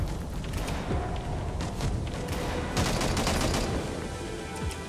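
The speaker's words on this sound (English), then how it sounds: "Yeah, suppressing fire though." Dense, sustained automatic gunfire from a sci-fi battlefield in Angels Fall First, rapid overlapping bursts and booms continuing for several seconds with no pause, as from suppressing fire.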